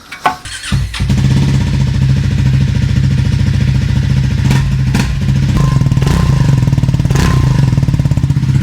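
A Triumph Scrambler 400x motorcycle engine idles with its exhaust off, a loud, steady, close-up mechanical drone after a couple of short clanks at the start.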